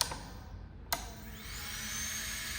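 A Renhe 505D manicure and pedicure nail drill runs at maximum speed, a faint, steady high-pitched electric whine that begins after a soft click and holds evenly to the end.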